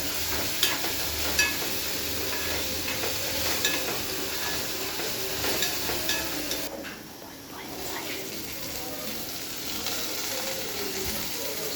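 Onion, garlic, chili and cumin fry in a pan for cowpea curry, giving a steady broadband sizzle with stirring scrapes throughout and a brief dip near the middle.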